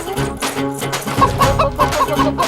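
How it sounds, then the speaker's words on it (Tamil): A hen clucks repeatedly at close range in a rapid, uneven series of short calls, loud and clear with no talking over it. "அம்மா கோழி பறந்துருச்சுமா."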